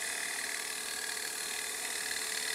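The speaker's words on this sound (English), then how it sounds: "sharpened up my parting tool, and I'm going to easily slip it right down into here" Sharpened parting tool cutting into a wooden hollow sphere on a lathe, a continuous high, hissing whine of the blade against the spinning wood, steady and close throughout.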